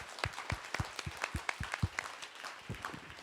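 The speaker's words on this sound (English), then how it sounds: "join me in a robust round of applause for Nicholas and his team" An audience at a Hong Kong business talk claps in a small, fairly quiet round of applause, made of separate distinct hand claps that fade out toward the end.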